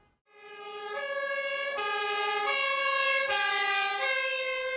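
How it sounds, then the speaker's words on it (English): A fire truck siren wails in town, starting abruptly and then sounding loud and steady with a rising, shifting two-tone pattern, close by. "That's a fire truck."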